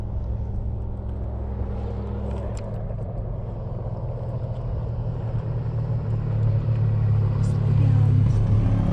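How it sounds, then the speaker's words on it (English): An off-highway vehicle drives past on a dusty road, its engine a steady rumble that grows louder toward the end, with someone talking briefly nearby. "oh, the OHV is passing"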